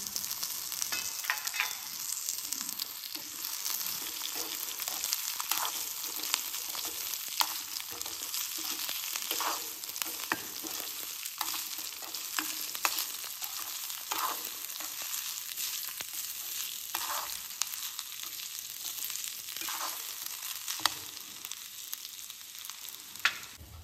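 Onion with tamarind, garlic and grated coconut sautéing in a pan, a steady close sizzle with intermittent scraping stirs throughout, no talk.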